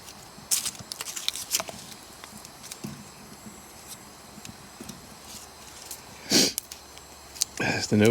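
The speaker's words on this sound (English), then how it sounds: "There's the nose sniffling now with the onion." Scattered short nasal sniffs close by from onion fumes at a forest camp, a few sharper ones near the end, over faint background noise.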